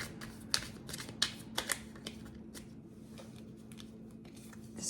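Tarot cards being shuffled by hand, a series of soft riffling flutters and light slaps in irregular bursts, close and quiet, with a faint steady hum underneath.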